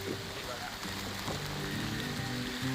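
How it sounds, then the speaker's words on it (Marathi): Light rain falls at night by a river during crab and fish catching, a soft steady patter and hiss with occasional closer drops, while people talk faintly underneath. "पाऊस आहे ना असा हलका हलका पडतोय ना"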